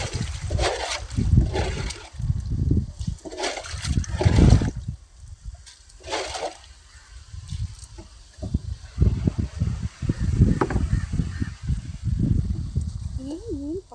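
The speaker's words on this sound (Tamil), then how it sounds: "அந்த தண்ணியெல்லாம் அள்ளி இறச்சி ஊற்றிட்டு இருக்காங்க பாருங்க" Fishermen scoop water out of a fishing boat and pour it overboard, producing repeated close splashes and pours in irregular bursts, with people talking throughout.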